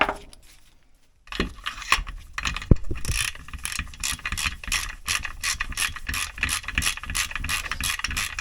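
Ratchet clicks rapidly while tightening parts on a Husqvarna 365 XT chainsaw being modified toward 372 XT spec, a dense run of close, loud metallic ticks that starts after a brief near-silent opening and continues steadily.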